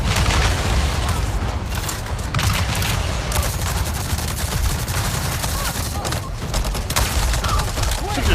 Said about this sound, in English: Let me shoot that thing behind him.